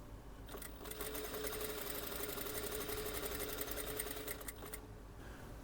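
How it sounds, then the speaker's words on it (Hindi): Sewing machine stitching the seam of palazzo pants with a half-inch margin, a steady fast close mechanical whir that runs for about four seconds before stopping, with no talking. "2-3 बार इधर से मशीन चला लें और फिर सीधी नीचे ले जाएं, आधा इंच का मार्जिन रखते हुए।"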